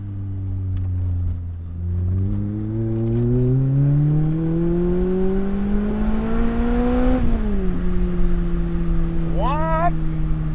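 A Lotus Elise engine revs hard, its pitch climbing steadily over several seconds to a peak, then dropping abruptly as the throttle lifts, with a brief squeal near the end; loud and close, no talking.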